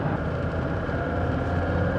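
A Mercedes-Benz S123 300TD diesel wagon cruising at speed, its engine droning at high revs with steady road and wind noise, continuous and loud from inside the cabin.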